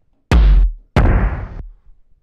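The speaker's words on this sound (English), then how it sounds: "Load in the tom." Two tom drum sample hits for a bass tech bassline, each a loud booming strike with a short decay, played back one after the other with a brief gap between them.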